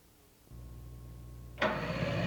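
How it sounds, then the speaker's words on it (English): A Kawasaki motorcycle's starter motor whirs into a steady cranking hum, then the engine catches and the sound jumps to a louder, fuller running roar. "The starter motor may turn the engine through a gear train and a torque limiter clutch"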